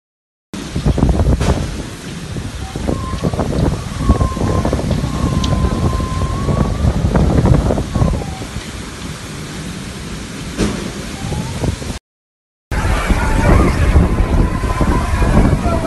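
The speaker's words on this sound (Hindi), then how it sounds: "इस तूफ़ान ने गुज़िश्ता 100 साल का रिकॉर्ड तोड़ दिया है" Storm in Oman: loud, sustained roar of wind and heavy rain with rumbling low noise throughout, a brief cut near the end, then the gusting storm resumes.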